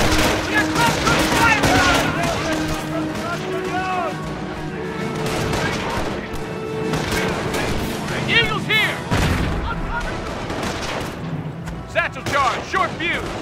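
Gunfire in the World War II strategy game Company of Heroes, with rapid rifle and machine gun bursts and thumping booms crackling over shouted soldier voices, loud and dense throughout.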